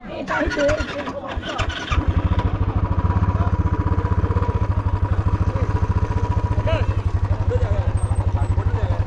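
A motorcycle with a damaged handlebar, readied for a trail ride, fires up after some close talking and settles into a steady, rapid, thumping engine beat heard up close.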